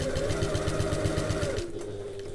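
A sewing machine top stitching a handbag runs close and steady with a fast, even mechanical pulse, then winds down and slows near the end.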